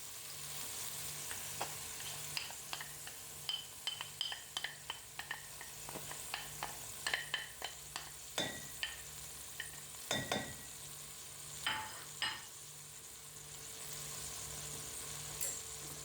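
Onions frying in a pan while traditional kebab cooks, a steady low sizzle broken by repeated scraping stirs and clinks through the middle, with no talk.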